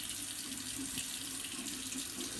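A bathroom sink tap runs in a steady, continuous stream, the water splashing close by at an even level with no voices over it.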